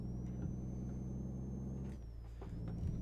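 A truck engine in American Truck Simulator hums low and steady, then dips briefly as it shifts gears before rumbling back up, with a faint whine running over the top and no talking.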